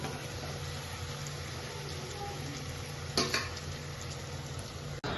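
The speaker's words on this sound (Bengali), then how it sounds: "আমি বাকি লুচিগুলো ভেজে যাচ্ছি" Luchi puffed flatbread deep-frying in hot oil, a steady quiet bubbling sizzle with a couple of brief utensil knocks near the end and no talking.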